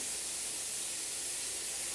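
Tap water running into a sink during hand washing, a faint, even hiss that carries on unbroken for the whole stretch.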